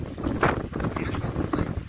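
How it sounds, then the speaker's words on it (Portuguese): Strong wind buffets a microphone outdoors near a jackfruit tree on a Sunday outing through sugarcane mill country, producing gusty, rumbling bursts throughout with no talking. "Tá ventando muito."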